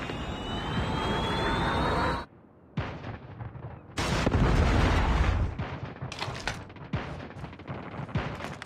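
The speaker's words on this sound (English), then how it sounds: "Friendly Predator missile inbound." A Predator missile strike in the Call of Duty mobile game: a loud sustained roar of incoming missile and aircraft drops away, then heavy blasts and gunfire-like impacts rumble close and loud for several seconds.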